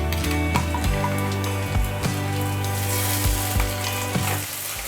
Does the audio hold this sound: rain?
no